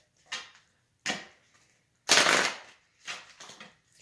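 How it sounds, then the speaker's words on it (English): Tarot cards are shuffled in several quick riffling bursts, close and crisp, with short pauses between them and no talking. "I'll just do a couple quick shuffles with that."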